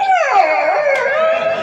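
A human voice imitates a puppy howling: one drawn-out, high, wavering whine, close and loud, with no other sound around it.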